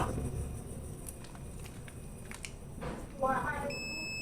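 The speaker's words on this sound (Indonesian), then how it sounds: "buzzer dulu" A PC motherboard buzzer sounds during a hardware check, giving faint steady high beeping tones that stand out most clearly near the end over quiet room noise and soft handling sounds.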